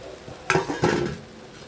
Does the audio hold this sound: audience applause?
no